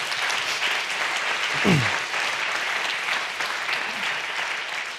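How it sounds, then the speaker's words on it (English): An audience at an Edinburgh public forum on 20-minute neighbourhoods and LTNs claps in a sustained round of applause. It is even and continuous, with a brief low thump partway through. "So if you can give them a round of applause quickly before we start."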